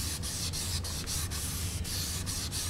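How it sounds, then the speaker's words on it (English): Rhythmic back-and-forth rubbing of a small sanding stick in a groove of a motorcycle bikini fairing on an FZR restoration, a steady series of short, gritty strokes close up. "The little sanding sticks makes it really easy."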